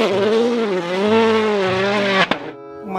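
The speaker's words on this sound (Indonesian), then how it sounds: "Mobil balap." Race car sound from a toy car video, a loud sustained engine whine rising and falling in pitch, then a sharp click and a quieter tail.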